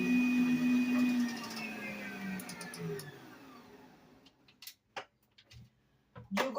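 An electric mixer whirs through softened unsalted butter and eggs for oatmeal cookie dough, its motor whine sliding lower and fading out, followed by scattered clicks and light knocks of the bowl.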